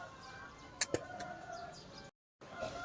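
Roosters kept for Sankranti in Thimmayapalem give a couple of short, sharp clucks close by, followed by softer calls and faint outdoor background noise.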